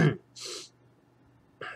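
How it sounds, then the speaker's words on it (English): A person sneezes once, a short sharp burst near the mic amid brief breathy sounds, with a short vocal sound at the start and another at the end. "There'll be more sneezing."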